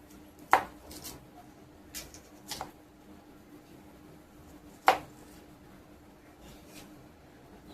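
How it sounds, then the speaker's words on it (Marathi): A knife chops an onion on a board in a home kitchen, sparse sharp taps spaced irregularly with quiet gaps between them, close and fairly crisp. "बघा कांदा कापून घ्यायचा."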